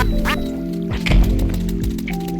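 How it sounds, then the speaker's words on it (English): A cartoonish duck quack sound effect from the ULTRAKILL video game plays as a coin is tossed, a loud quack followed by a few more short quacks and clicks, without talk. "so you toss it, it's the duck sound, while it's falling"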